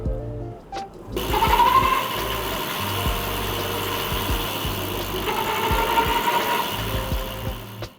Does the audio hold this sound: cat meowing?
no